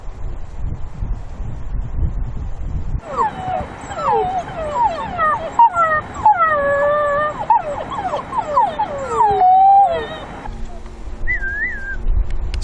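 Young wolf pups give a run of high, wavering whimpers and yips, one overlapping the next in a busy chorus for several seconds, then fading to a single faint whine.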